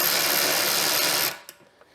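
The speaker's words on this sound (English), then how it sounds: "Get our auto screw bolt starter." Auto screw bolt starter driving bolts on a Yamaha Big Bear ATV: a loud, close, steady high-pitched motor whir that runs for over a second, then cuts off and leaves a couple of faint clicks.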